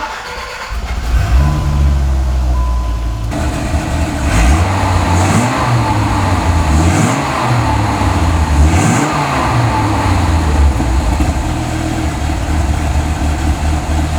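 A 1993 Dodge Viper RT/10's big-displacement engine cranks and fires up loudly close by, then settles into a rough idle broken by several sharp revving blips that rise and fall in steady succession.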